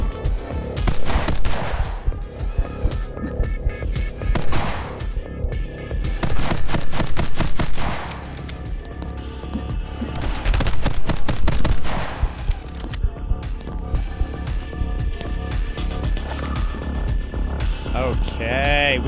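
Rifle fire in the video game My Friend Pedro, with loud repeated bursts of shots over a steady droning background, and several dense clusters separated by brief lulls.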